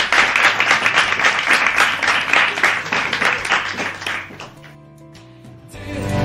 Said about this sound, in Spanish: Demos un aplauso a nuestras estrellas invitadas